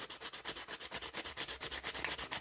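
Hand sanding of divots on the back of a 3D printed figure, a quiet, rapid series of regular scratchy rubbing strokes, about eight per second, with no talking.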